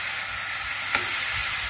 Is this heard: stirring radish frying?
yes